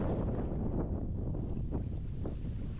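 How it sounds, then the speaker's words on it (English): Heavy wind buffeting a microphone outdoors during a swim, a loud continuous low rumble with gusty swells and no clear voices. "And now the wind is terrible"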